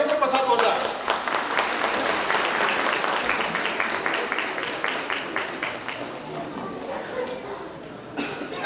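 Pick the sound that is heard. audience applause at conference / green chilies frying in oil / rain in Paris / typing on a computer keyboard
audience applause at conference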